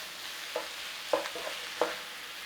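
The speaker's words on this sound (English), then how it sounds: "Just start to cook that beef in there." Chopped beef cooking in a pan with a soft frying hiss underneath, broken by three or four distinct scraping stirs of a utensil moving the meat around.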